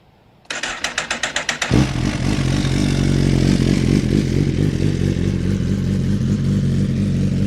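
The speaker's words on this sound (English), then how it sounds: "So this is a real cold start." A motorcycle engine, unstarted for about a week, cold-starts with a rapid clattering starter, then catches and roars into a loud, steady idle close by.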